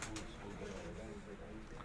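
A high flyer pigeon coos in low, soft murmuring notes, quiet and close, with faint background noise and a brief click near the start.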